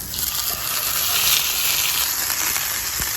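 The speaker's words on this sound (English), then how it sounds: "Placing the fish into the hot oil." Salmon fillets laid skin side down into hot oil in a cast iron pan crackle and sizzle with a bright, steady hiss throughout, close and fairly loud, with a faint clunk near the end.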